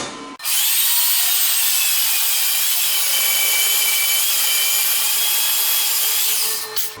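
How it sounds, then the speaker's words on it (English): A Porta-Band portable band saw cutting through metal, a loud continuous high-pitched grinding whine that holds steady for several seconds, starting abruptly and stopping at the end. "pull our porta band out and stop it"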